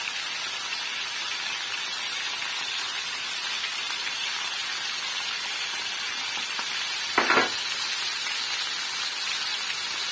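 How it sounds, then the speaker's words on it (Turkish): Steady, continuous sizzling of chicken chops frying in a hot pan, with one brief clatter near the end. "Şimdi böyle çeviri çeviri kızartalım"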